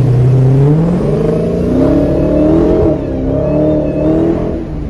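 A Dodge Challenger Hellcat's engine pulls hard while being driven in Las Vegas, a loud, steady, close-up roar that rises and shifts in pitch through several revs with no one talking.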